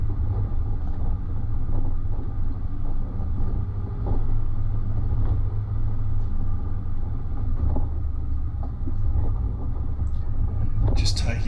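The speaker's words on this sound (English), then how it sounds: "You can see as the front wheels are dropping down those rock steps." A vehicle creeping slowly down rocky steps on a Pyrenees mountain track, with a steady low engine rumble and intermittent bumps and knocks as the front wheels drop, continuous and fairly loud throughout, with brief speech heard.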